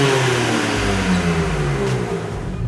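2021 BMW M3 Competition with four exhaust pipes revving loudly up close, a deep engine note climbing and easing off in a continuous rumbling roar.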